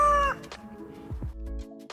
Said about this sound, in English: These are our chickens.